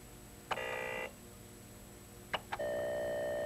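Electronic tones from a home computer loading a program off cassette tape: a short burst of steady beeping pitch, a pause, two clicks, then a longer continuous tone, faint in a quiet room.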